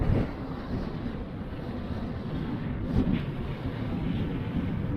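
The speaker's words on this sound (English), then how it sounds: "the intense wind" Intense wind at the Greek seaside buffets the microphone in a continuous rough roar, with a couple of stronger gusts, and the sea can be heard faintly beneath it.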